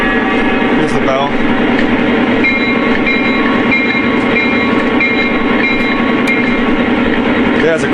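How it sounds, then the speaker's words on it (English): A Lionel Union Pacific SD70ACe model locomotive bell rings steadily over a constant rumble of train engine noise, with sharp metallic strikes cutting through the drone. "Here's the bell."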